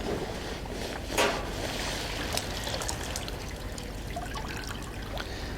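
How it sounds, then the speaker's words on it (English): A cloth item is sloshed and rinsed in clean water to wash out soap, producing a continuous splashing, trickling wash with a few louder swishes. "once more we are putting it into normal water, good water, so that any element of soap which is there will be removed"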